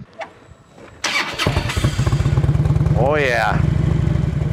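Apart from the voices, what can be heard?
Harley-Davidson Road King motorcycle engine starting and running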